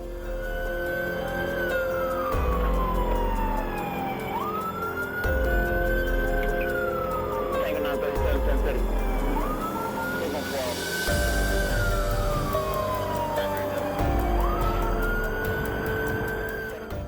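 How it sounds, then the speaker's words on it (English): A police car siren wails in a repeating rising-and-falling cycle during a dashcam chase of a gold Chevy Suburban, loud and steady over engine and road noise for the whole stretch. "the deputy activated his lights and siren"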